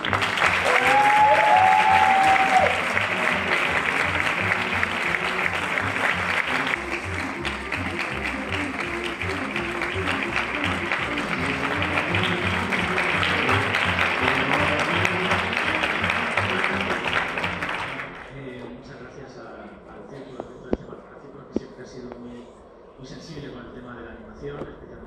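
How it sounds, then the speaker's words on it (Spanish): Loud, sustained applause from a large audience at a film writers' awards gala, steady clapping for about eighteen seconds before it drops away into a quieter room with a few scattered claps. "demos un fuerte aplauso a Cruz Delgado Jalis"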